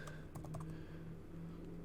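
Keys on a computer keyboard are typed in a quick, quiet burst of several clicks, with a soft steady hum underneath.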